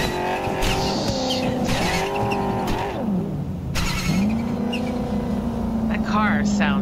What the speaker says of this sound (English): That car sounds bad.